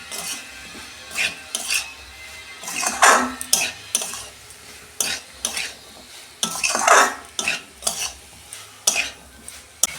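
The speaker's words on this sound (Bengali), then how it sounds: "আলুটাও দিয়ে দিচ্ছি। ভালো করে আর 2 মিনিট কষতে নেব।" Potatoes being stir-fried in a pan at close range, with repeated scraping and stirring strokes, spoon clatter against metal and a low sizzle underneath, arriving in irregular bursts with no talk.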